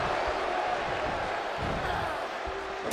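Arena crowd in WWE 2K23 keeps up a steady, dense roar of cheering throughout a women's wrestling match, with scattered whoops rising from the mass of fans.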